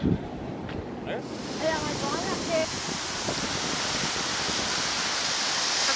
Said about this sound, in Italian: le onde del mare stanno facendo arrivare l'acqua fino a qua